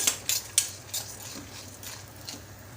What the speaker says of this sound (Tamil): இப்போ இதை சேர்த்து கலந்து விட்டுக்கலாம் பருப்பு வரமிளகா எல்லாமே வறுபட்டு வரட்டும்